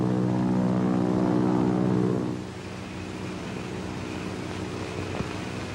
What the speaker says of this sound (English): Do you hear a plane?